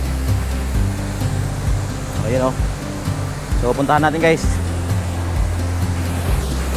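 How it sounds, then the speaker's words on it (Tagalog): Strong rushing water of Tuntunan Waterfalls in a forest, a steady broadband roar filling the whole clip with people talking over it. "So, ito na yung Tuntunan Waterfalls. Napakalalim at napakalakas ng tubig."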